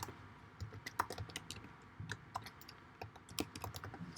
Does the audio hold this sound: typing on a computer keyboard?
yes